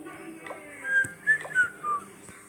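A person whistles a short tune of a few bright notes, near and moderately quiet, against faint background game sounds.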